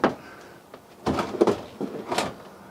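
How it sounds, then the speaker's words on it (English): Self-closing drawers on a 2017 Lance 995 truck camper slide and thud shut, several separate close knocks and soft slides spread over a few seconds. "And they are the self-closing drawers."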